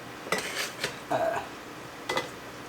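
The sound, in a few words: filling canning jars with hot water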